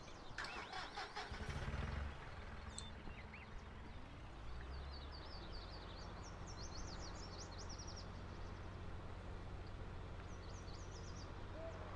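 A tractor engine in Farming Simulator 22 cranks and catches in the first couple of seconds, then settles into a low steady idle rumble, with faint chirping bird ambience over it.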